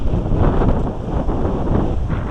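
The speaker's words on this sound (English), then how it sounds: "There is a 7 mile per hour wind coming from the northeast with gusts of 15 miles an hour." Outdoor wind gusts from the northeast at up to 15 mph buffet the microphone, a loud, continuous low roar that swells and eases with no talk over it.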